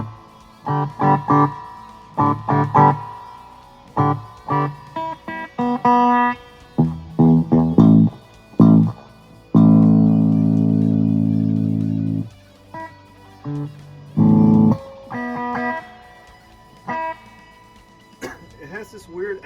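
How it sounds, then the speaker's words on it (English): Guitar notes and chords are struck in uneven bursts through a Carvin Legacy amp, each followed by a springy, metallic spring-reverb ringing tail that lingers after the strings stop. "So I know it's spring reverb, but not the greatest. Even at max."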